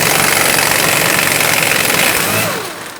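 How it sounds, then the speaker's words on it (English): A 21mm bolt is driven out of a 2007-2014 Chevrolet Silverado 2500 HD rear shock mount with a 21mm socket, giving a loud, steady mechanical whirr and rattle that holds for over two seconds and then tapers off. "Just put a 21mm socket on the bolt side and let's drive it out of here."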